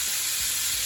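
Shrimp fry in a pan, giving a continuous bright sizzle and crackle that stays steady and close throughout the short moment.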